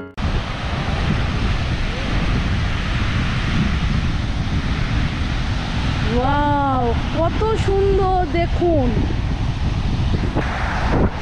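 Rough sea waves breaking at Marina Beach, Chennai, make a steady, loud roar with wind noise throughout. A voice speaks briefly partway through.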